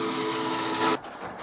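A steam locomotive whistle sounds a steady, bright tone for about a second, then cuts off, leaving a hissing rumble.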